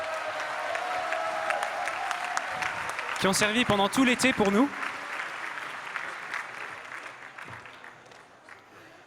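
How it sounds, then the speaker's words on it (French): A worship audience applauds loudly and steadily in a large hall at a praise gathering, with a short burst of sung or musical tones in the middle and someone speaking over the clapping throughout. "qu'on peut applaudir bien fort"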